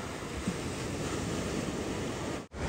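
Ocean surf breaks at Venice Beach where surfers wait out on the water, a continuous broad roar of waves mixed with wind buffeting the microphone, cutting off abruptly near the end.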